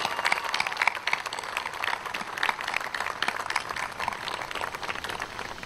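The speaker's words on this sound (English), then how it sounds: "give you a big round of applause for IBU 22" An audience at a naval change-of-command retirement ceremony claps steadily for several seconds, even, moderately loud applause from a crowd with no talk over it.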